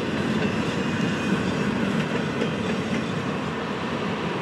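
Last car of a freight train on Florida East Coast track rolling past close by, a loud continuous rumble with wheel clatter and faint metallic squeal, steady throughout with no talking.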